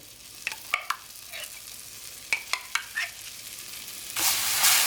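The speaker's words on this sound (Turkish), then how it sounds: "Bal kabağını helvayla karıştırıyorum." A spoon stirs pumpkin into semolina halva, making a few sharp scrapes and clinks against the pan over a low sizzle, followed by a louder rush of frying near the end.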